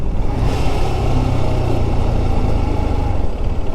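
A motorcycle engine runs continuously at a steady idle-like rumble, loud and close, with no talk over it.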